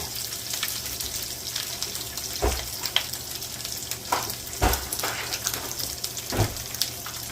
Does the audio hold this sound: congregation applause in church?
no